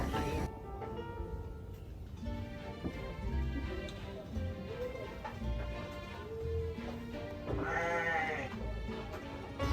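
Sheep bleat repeatedly on a sheep farm during a field visit where animals are being measured, the calls rising over a busy, continuous background of flock noise and faint voices.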